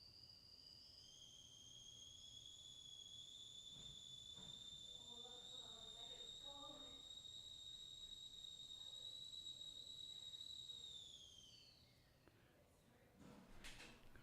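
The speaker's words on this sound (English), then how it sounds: "If you just heard that whistling, it was just the kettle going off." A kettle whistles steadily with a high, sustained tone for about twelve seconds, then fades out, while faint voices and soft clatter sit underneath.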